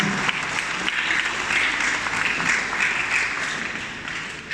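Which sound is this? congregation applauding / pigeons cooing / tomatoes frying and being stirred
congregation applauding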